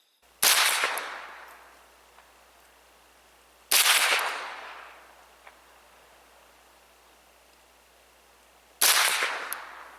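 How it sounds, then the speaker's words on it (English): A Ruger 10/22 rifle firing a group at a range: three sharp, loud single shots spaced several seconds apart, each with a brief decaying echo and quiet gaps between. "But let's shoot a group."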